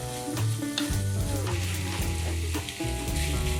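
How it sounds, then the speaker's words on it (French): Smoked bacon lardons sear in a pan for a pigeon-with-truffle dish, a steady sizzle running under louder background music throughout. "pour que vos lardons soient vraiment saisis comme il faut"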